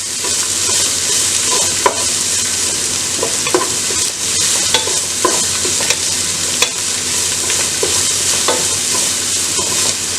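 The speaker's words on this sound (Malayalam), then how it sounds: "ചെറിയ ഉള്ളി ചതച്ചതും കൂടി ഇട്ടപ്പോൾ നല്ല സ്മെല്ല് വരുന്നുണ്ട് കേട്ടോ" Crushed shallots frying in hot oil for a sprouted green gram stir-fry, a steady loud sizzle with occasional scrapes and stirring clicks throughout, no voices.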